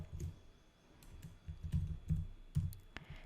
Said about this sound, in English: Let's type Stackby in the choose app section of trigger.